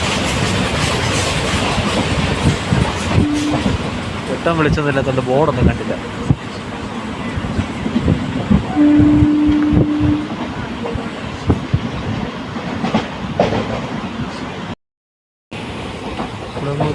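Onboard the Punalur Madurai Express at night, the train rumbles and clatters with rhythmic clickety-clack and a brief wheel squeal as it runs past a station, while someone talks over it.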